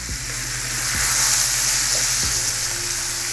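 Butter and garlic sizzle loudly in a pan alongside a steak, a steady close frying hiss with a few soft clunks from handling and stirring.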